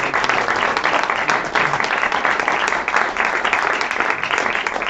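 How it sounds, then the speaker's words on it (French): A political rally audience at the Café de la Gare claps together in steady, loud applause that fills the room for the whole stretch without pause. "franchement, il faut les applaudir ensemble"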